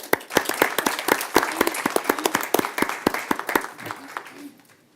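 At a Lee's Summit city council meeting, a small group claps in sharp, distinct, separate claps at a brisk uneven rhythm. The clapping thins out and fades near the end, leaving a quiet room.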